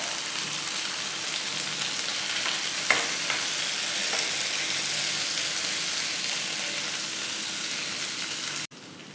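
Tomatoes and green chilies frying in a spoonful of oil on a stove, a continuous bright hissing sizzle with a couple of faint stirring knocks, close and even throughout before cutting off abruptly near the end.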